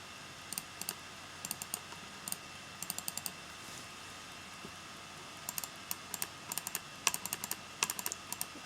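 Keys clack on a computer keyboard in short bursts of quick taps with brief pauses between them, crisp and close over a quiet room.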